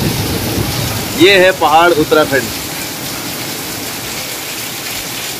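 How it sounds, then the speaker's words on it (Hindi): Heavy, continuous rain falls in the Uttarakhand mountains, a loud, even wash of hiss that persists throughout while a person briefly speaks over it. "कम से कम ये बारिश दो घंटे से कंटिन्यू गिर रही है, कंटिन्यू।"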